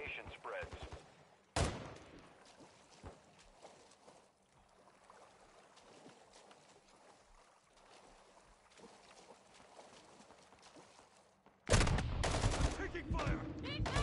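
Bursts of gunfire from a military shooter video game sound early on, then give way to a quieter stretch of ambient noise before a loud, dense volley of rapid shots erupts near the end.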